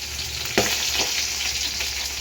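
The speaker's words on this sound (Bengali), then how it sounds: "এখানে মাছগুলো ভাজা হয়ে যাচ্ছে" Lotia fish fry in a pan, producing a steady, close hiss of sizzling oil with one sharp spatter near the start, with no voices.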